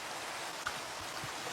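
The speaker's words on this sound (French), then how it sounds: "toujours la pluie" Steady rain pours across a Minecraft landscape, a dense even hiss with no pauses, continuous and moderately loud through the whole moment with no voices over it.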